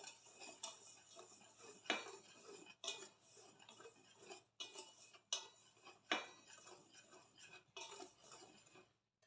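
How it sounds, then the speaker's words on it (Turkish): Flour and starch stirred with a spoon in a bowl before milk is added, giving repeated sharp clinks and scrapes of metal against the bowl in an uneven rhythm, close and fairly quiet with no talking. "Şimdi kabımın içine almış olduğum malzemelerimi sütümü ilave etmeden önce bir karıştıracağım."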